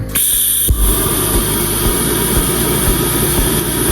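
Tack welding a thick stainless steel tube: a steady, loud, high-pitched electrical whine and hum with a constant buzzing crackle, running continuously with a brief shift early on.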